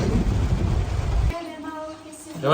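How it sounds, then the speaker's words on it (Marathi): Heavy monsoon rain pours down in a loud, dense roar close by for over a second. The roar then cuts out abruptly, leaving a quieter background with faint tonal sounds. "एवढा पाऊस चालू हा भरपूर चालू आहे पाऊस"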